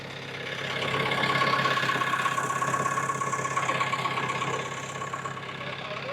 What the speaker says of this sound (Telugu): ఇంజన్ సౌండ్ కొద్దిగా వేరే తిరిగి వస్తుంది